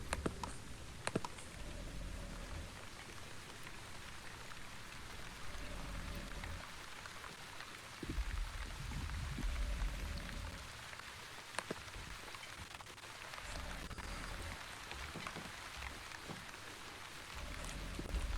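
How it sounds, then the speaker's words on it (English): Light rain falls steadily in The Wandering Village, a soft continuous patter with occasional clicks over a faint in-game ambience. "Yay, light rain."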